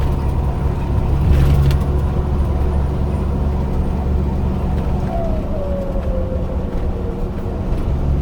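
A car driving on a road during a long trip, a steady low rumble of engine and tyre noise inside the cabin, with faint background sounds and no clear talk.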